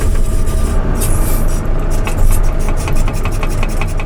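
A JCB 3CX Super 2021 backhoe loader engine runs loud and steady at close range, a constant diesel drone with rough, gritty texture throughout and no talk over it.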